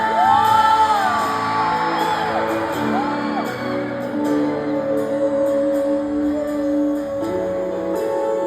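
Concert crowd at an outdoor Araw ng Lanao del Norte music event shouting and cheering loudly and continuously, with whoops rising above the mass of voices and a musical backdrop underneath.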